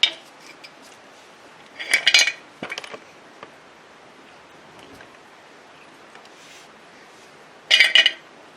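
Metal clinks and clatter as a car engine's oil pan is worked loose and removed, with two short bursts of ringing metallic knocks separated by quiet, close by and with no talking.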